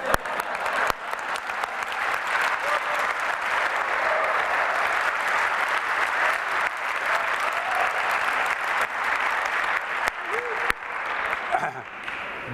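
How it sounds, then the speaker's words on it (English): Sustained audience clapping at a talk on land protection and plant species revival in India, dense and steady for about twelve seconds, with a voice briefly audible near the end as the applause thins. "Usually people give me a clap when they hear this"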